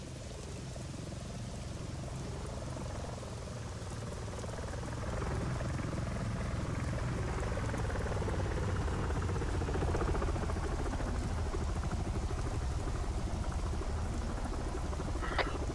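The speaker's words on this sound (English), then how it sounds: "Let's hope you can land it without crashing it." Helicopter in the video game Arma 3 coming in to land at night, a steady whirring rotor and turbine drone that swells slightly louder midway, with a sharp click near the end.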